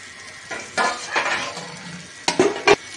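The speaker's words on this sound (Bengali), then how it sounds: "এবারে চিংড়ি মাছগুলো আমি দিয়ে দেব" Prawns go into a hot pan and are stir-fried with a burst of sizzling. A spatula scrapes and clanks against the pan in a few sharp strokes, loud and close.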